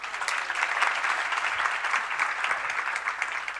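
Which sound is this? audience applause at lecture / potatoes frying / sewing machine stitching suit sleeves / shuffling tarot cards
audience applause at lecture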